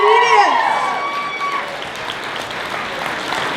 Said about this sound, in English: We are going to give a big round of applause to our intermediates.